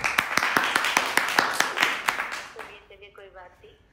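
A burst of loud clapping and applause, sharp rhythmic claps for about two and a half seconds, then fading into quiet tonal sound.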